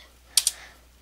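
Two quick, close keystrokes on a computer keyboard, a crisp pair of taps in near silence.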